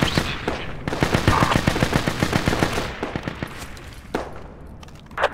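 Mortar crew gunfire in the Project Reality Falklands War game, a rapid burst of sharp, evenly spaced shots rattling loudly for a couple of seconds, then fading into scattered distant thumps and a final crack.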